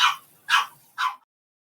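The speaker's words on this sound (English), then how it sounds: "loving my puppy in the background." A puppy yaps three times in quick succession, sharp high-pitched barks close by, evenly spaced about half a second apart, then falls silent.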